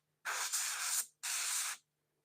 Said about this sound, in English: Yes, it's spraying good now.